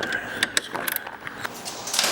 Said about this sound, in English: We're going to use an 8mm. We're going to take off the 4 bolts holding on the bottom of the glove box